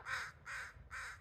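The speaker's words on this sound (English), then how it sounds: "Crows are visiting." A pair of crows caw three times in an even rhythm, harsh and fairly distant, the calls faint against a quiet low background hum.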